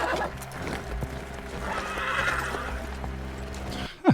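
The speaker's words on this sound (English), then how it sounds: "Oh, that horse is wild." A horse in a Game of Thrones scene whinnies loudly and gallops with steady clip-clop hoofbeats over busy background sound, ending in a sharp high neigh.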